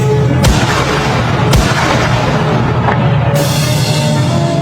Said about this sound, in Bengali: হাতে রাইফেলের তাজা গুলি, আবারও গুলির শব্দ।